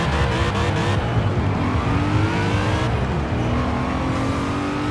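Supercharged BMW M3 GTR engine in the Forza Horizon 4 racing game roaring at high revs, a loud, dense, steady drone with slowly climbing pitch, close up and continuous with no talk.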